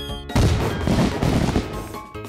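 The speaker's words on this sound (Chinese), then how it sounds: "这次我来放烟花，走你！" Fireworks set off in the video game Mini World: a dense run of booming, crackling bursts that pile up continuously for about two seconds after a brief quiet start, loud and close.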